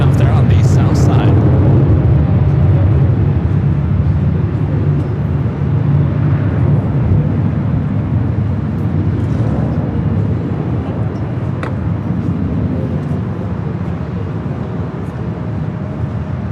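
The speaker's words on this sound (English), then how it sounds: "Atop Dreamliner taking off there on the south side." A Boeing Dreamliner airliner takes off at LAX, heard as a loud, steady low roar of jet engines that fills the whole stretch and eases slightly toward the end, with faint background noise from a busy holiday evening.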